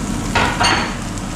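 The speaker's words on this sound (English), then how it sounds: "Going to brown the bacon off." Bacon browns in oil in a pot for a red wine beef stew, a brief, close, loud sizzle with two brighter surges as it is stirred.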